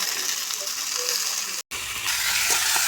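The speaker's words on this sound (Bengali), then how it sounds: "হালকা একটু কষিয়ে নেবে এখন তরকারিটা" Mixed vegetable curry of eggplant, tomato, potato, radish and beans sautéing in a pan, a continuous close sizzle with soft stirring scrapes, briefly cut by a short gap before the frying resumes.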